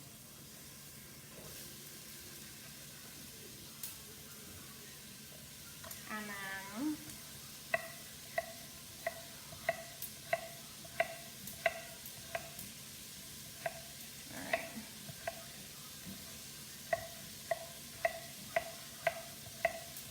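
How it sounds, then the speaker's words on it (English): Potatoes fry with a steady sizzle in a pan, with a brief voice early on, plus a series of sharp regular clicks and taps. "You can hear that sizzle."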